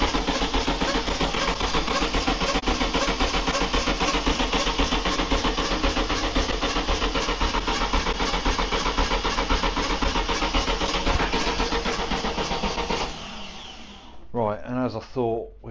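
A trike engine cranks and runs with a loud, continuous mechanical churn after its ignition switch is shorted, then cuts off abruptly near the end, followed by someone talking.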